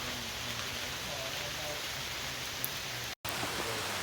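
Steady rain falls at Pine Creek Gorge canyon in Pennsylvania, a soft, even hiss of drops all around, fairly quiet and broken by a brief cut near the end.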